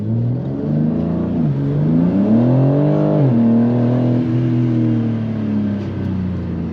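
A BMW M3 M Performance (G80) pulls hard under acceleration, its engine note climbing loud and close, briefly dipping at a gear change, then rising again and holding a steady strong drone.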